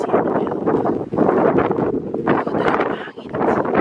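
Gusty outdoor wind buffets the microphone in loud surges that rise and briefly drop away, rumbling and rushing with no clear voices over it.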